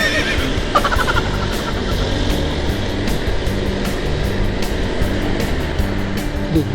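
A horse whinnies in the Bulacan highlands, a shrill neigh rising over a steady outdoor roar of wind and passing traffic, fairly close and loud.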